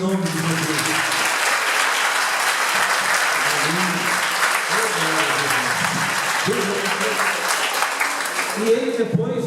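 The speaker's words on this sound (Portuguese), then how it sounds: "Irmãos, eu acho que o Senhor merecia um aplauso por isso." A church congregation applauds for its pastor at a 50th-anniversary service, with steady, dense clapping filling the room for nearly ten seconds and voices calling out over it.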